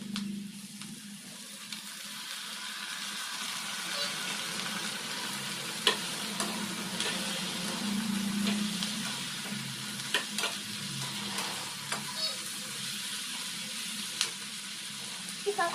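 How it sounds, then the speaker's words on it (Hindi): Onion and tomato masala frying in a pan for a cabbage kofta curry, a steady close sizzle with scraping stirs and soft spoon clinks against the pan, no talking. "इसको अच्छे से मिला के पका लेंगे।"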